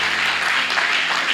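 A church congregation applauds with dense, steady clapping that fills the hall and holds at an even loudness throughout.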